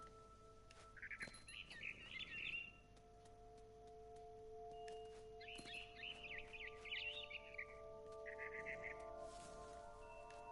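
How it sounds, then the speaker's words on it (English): Bright bird chirps come in three short bursts of rapid tweeting, moderately distant, over a steady low hum with no talking. "Then I heard chirping outside my window."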